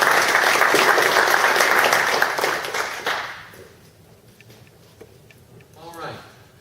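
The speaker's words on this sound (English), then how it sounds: "Let's give these guys a round of applause." Steady, dense audience applause fills a meeting room for about three seconds, then fades into quiet room noise with a few stray claps.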